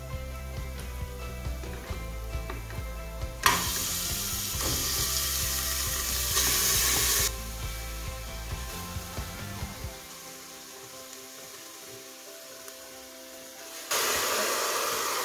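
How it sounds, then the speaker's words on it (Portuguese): Beef ribs sautéing with garlic and seasonings in a pot, a steady sizzle that swells loud for several seconds then drops to a quieter hiss, with faint stirring and clinks throughout. "Vou refogar aqui um pouco, gente, dessa carne aqui, ó, nos temperos."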